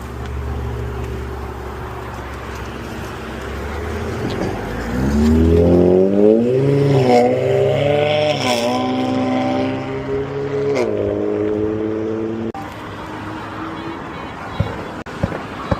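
A tuned Infiniti with a VQ-series V6 (3.7 or 5.6) revs hard, its harmonics climbing and falling through several loud sweeps before settling back, with voices chatting faintly underneath.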